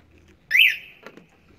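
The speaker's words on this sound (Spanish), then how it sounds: "esa fue la alarma" A Sunra Miku Max electric scooter alarm gives a short, loud rising electronic chirp, followed by a couple of fainter clicks, with no one talking.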